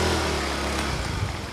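A motorcycle with a damaged, broken front shock rolls down a steep slope, its engine a close, steady rough drone with slight wavering throughout.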